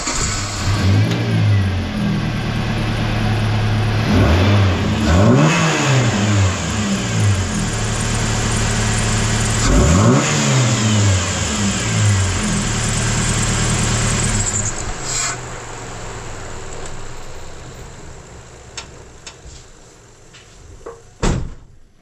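A 4-cylinder Chevy S10 engine fitted with an aftermarket header idles with a rough, throaty tone and revs up sharply twice, close and loud, before settling and trailing off with a few clunks near the end.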